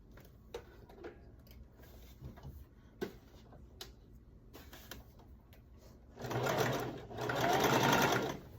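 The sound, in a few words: sewing machine zigzag stitching stretch sequin fabric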